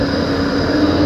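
Steady interior hum of a tram riding through Melbourne, a continuous low rumble with a faint tonal whine and no talk, unchanging throughout.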